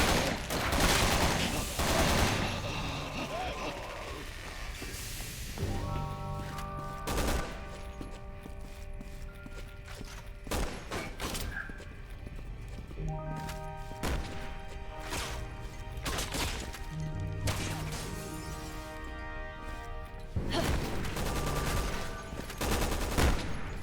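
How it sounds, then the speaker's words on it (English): Rapid bursts of gunfire from the video game Resident Evil 6: loud, dense volleys and single cracks recur throughout, with an explosive start and end, over a steady backdrop of game sound. "Are they shooting at me?"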